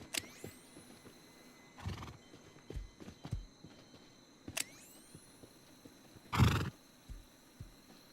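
Horses in the video game Rust whinny and neigh in several bursts, mixed with scattered clip-clop hoof thuds and occasional louder snorts, fairly quiet overall with no talk.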